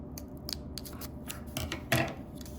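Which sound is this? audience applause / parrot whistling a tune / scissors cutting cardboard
scissors cutting cardboard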